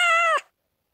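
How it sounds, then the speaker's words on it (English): A kitten lets out a single loud, clear meow that lasts under half a second and then cuts off to silence. "kitten realized that he is in trouble and started to meow"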